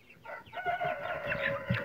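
Black Cochin hens clucking close by in a short run of soft, uneven calls with a slightly louder note near the end.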